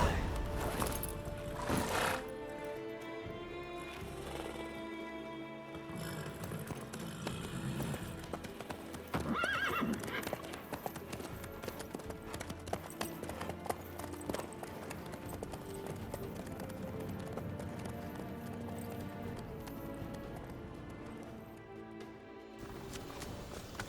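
A horse in the video game The Witcher 3 moves in a steady clip-clop of hooves that runs throughout, with an occasional whinny and game music underneath.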